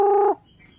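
A single short, tonal cluck from a rooster brood cock, lasting a fraction of a second and then cutting off into quiet.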